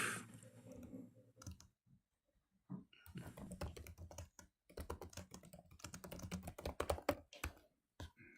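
Answer typed on a computer keyboard: bursts of fast, close key clicks in uneven runs, with a few short pauses between them and no talking.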